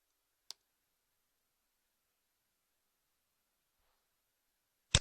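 Two sharp computer mouse clicks, one early and one at the very end, sound close and isolated against near silence while working in Google Sheets.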